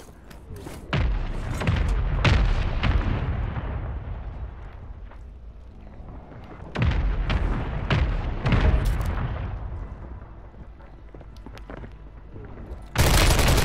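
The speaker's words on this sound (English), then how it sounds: "Hostile mortar strike in the area." Mortar strike explosions in Call of Duty land in heavy, rumbling waves: deep booms and thuds with rattling debris and gunfire, loud and close, fading between barrages before another blast hits at the end.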